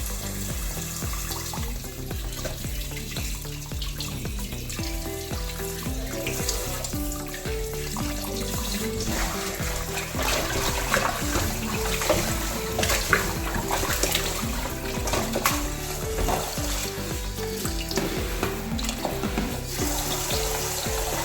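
Mutton pieces rinsed under a running kitchen tap after being scrubbed with rock salt, a steady close splashing of water over meat, continuous and fairly loud throughout with no talk.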